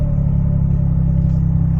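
A tiny Honda JDM car without power steering is driven slowly, its small engine giving a loud, steady low rumble with a faint rhythmic clatter and no talk.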